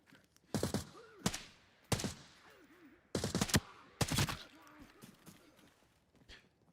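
Bursts of 7.62 rifle fire with tier 4 ammo in Arena Breakout Infinite: five loud, sharp shots in uneven spacing, each with a short echoing tail, plus faint low chatter between them.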